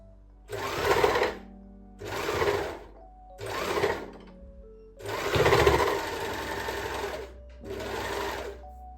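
An overlock sewing machine stitches fabric scrunchies in five separate bursts of whirring, each lasting about a second or two, with short pauses between them. The running is close and steady.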